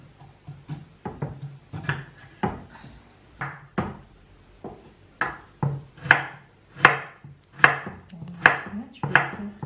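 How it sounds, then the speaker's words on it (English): A knife dices peeled carrot, parsley root, celery root and onion on a board in sharp, close chops, first irregular and then in a steadier rhythm of distinct knocks. "Now I'm gonna cut them all in dices."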